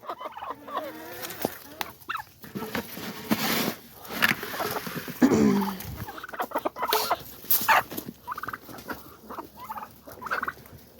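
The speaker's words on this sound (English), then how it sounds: "I don't know what kind of rooster this guy is." A rooster of unknown breed among hens in a coop, giving a few crowing and gobbling calls with scattered clucks and rustling, fairly close, in short bursts.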